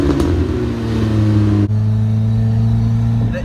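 Engine-swapped Mazda Miata accelerating hard, a loud, close engine note climbing steadily, breaking for a quick gear change midway, then pulling on again at full volume.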